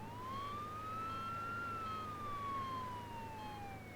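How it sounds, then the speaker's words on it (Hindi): Ambulance siren wailing in a single long rising-and-falling sweep, steady and fairly close over a low rumbling background, with no voices. "एम्बुलेंस में सायरन होती है, सायरन के बजने से रास्ता मिलता है।"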